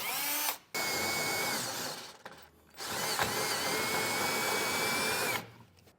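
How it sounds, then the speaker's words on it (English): Power drill boring out a pilot hole in a truck frame to 11/16 inch for a fifth-wheel hitch base rail, in two long loud whining runs with a brief stop between, close up and without talking. "Now I'm going to drill out that pilot hole"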